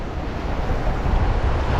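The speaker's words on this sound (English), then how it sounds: "even though it's really windy, and I'm sorry you gotta hear all that" Strong wind outdoors while gold prospecting at a stream buffets the microphone in a loud, continuous rushing roar, with no voices.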